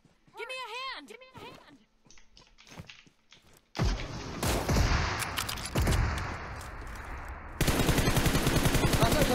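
Bursts of automatic gunfire and single shots ring out in the mobile battle-royale game PUBG Mobile, loud and rapid, with footsteps and thuds between them and players talking over the action.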